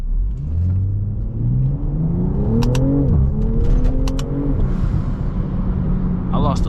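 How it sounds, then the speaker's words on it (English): A BMW M340 accelerates hard through the gears, the engine note rising in pitch twice with a shift between, tires briefly losing traction, close and loud with voices talking over it. "I lost a little bit of traction right there"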